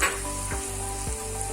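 Chicken sizzles in a frying pan as ground paste is added and stirred in, a steady close hiss and crackle broken by two short scraping strokes.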